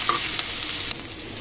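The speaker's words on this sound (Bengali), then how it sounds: "পেঁয়াজটাকে আমি ভাজা ভাজা করে নিব।" Onions frying in a pan for a jackfruit-seed mash, a steady close sizzle with faint stirring scrapes throughout the short stretch.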